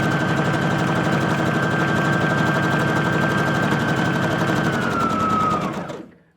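Domestic sewing machine stitching a French seam on a drawstring bag, a steady fast mechanical whir with a buzzing hum held at an even pace for about six seconds, then slowing and stopping.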